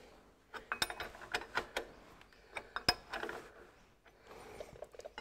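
Bolts being tightened on a Ferguson TE20 tractor after a clutch repair: a close series of sharp metallic clicks and ratcheting taps in irregular bursts, with short quiet gaps and no talking.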